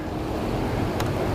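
Strong wind buffets the microphone during lake or shore fishing, a steady rough rumble with a brief hiss near the end, fairly faint and without speech.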